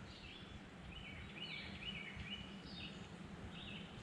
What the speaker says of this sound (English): There seems to be a lot of birds here on the interior of the island.